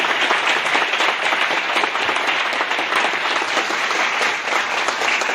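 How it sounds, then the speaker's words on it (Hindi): A large audience at a talk gives loud, dense, sustained applause, a continuous wash of clapping close and full throughout with no pause. "जोरदार तालियां।"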